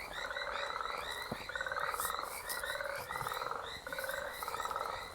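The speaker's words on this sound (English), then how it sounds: "one thing sounds like it could be a cricket" A loud night chorus of rhythmic chirping calls repeats in quick pulsed bursts close by, steady and insistent for several seconds with no talking.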